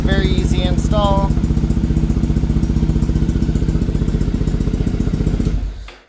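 A carbureted Triumph Thruxton 900 fitted with a ProCom programmable CDI ignition idles with a steady, even pulse. A voice speaks briefly near the start, and the engine cuts off just before the end.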